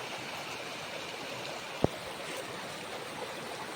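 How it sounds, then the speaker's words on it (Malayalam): A clear, never-drying stream flows under a small bridge, giving a soft, steady wash of running water with one sharp click partway through. "പാലത്തിൻ്റെ അടിയിലൂടെ അരുവിയിൽ നിന്ന് വെള്ളം ഒഴുകി വരുന്നതാണ്"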